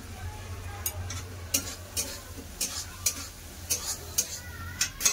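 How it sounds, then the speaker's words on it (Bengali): Tomatoes stir-fry with turmeric and coriander powder, a quiet sizzle under a steady rhythm of spatula scrapes and taps against the pan, each stroke short and fairly close. "এবার দিয়ে দেবো হলুদ গুঁড়ো, সামান্য একটু ধনে গুঁড়ো দেবো।"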